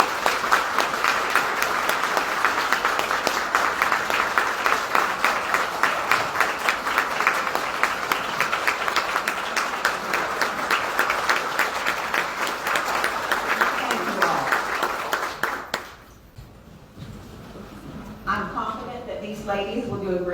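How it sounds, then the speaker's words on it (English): A large audience claps steadily in sustained applause for newly appointed ladies at a state meeting, dense and even for about fifteen seconds before cutting off, followed by a faint voice. "Please give these ladies a round of applause."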